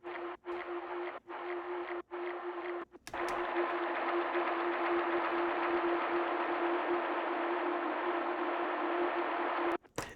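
A stretched, pitch-shifted intro pad from the track, a watery sustained wash with a steady sine-like root tone, briefly broken by short gaps at the start and then droning evenly.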